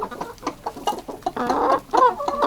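Kuban hens in a coop give a run of close, short clucks and throaty murmurs, several birds overlapping in an uneven chatter.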